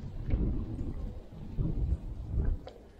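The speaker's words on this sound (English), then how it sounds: "Not gonna pull them until that wind stops." Gusts of wind buffet the microphone in low, rumbling surges that swell and fade several times, outdoors at a beehive.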